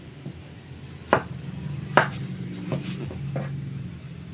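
Fish being cut on a board at a Philippine market stall, with a few sharp knife chops spaced apart over a low, busy market hum and no voices.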